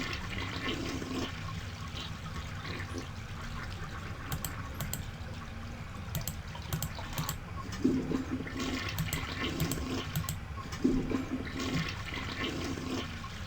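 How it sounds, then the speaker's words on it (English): Toilet flushing in the video game Harvester: a continuous rushing, gurgling wash of water runs throughout, with a couple of stronger surges partway through and no speech. "Flush each toilet for good luck."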